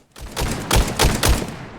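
Gunfire from weapons shot at training dummies in the VR battle royale game Contractors Showdown: a few sharp, loud, close shots in a short uneven burst, each a hard crack with a brief tail, with no talk.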